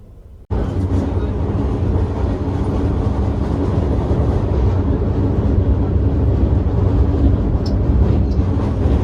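Passenger train on the Punjab to Kashmir route near Pathankot, running late: a loud, steady rumble and rattle of the moving train that starts abruptly and continues without a break.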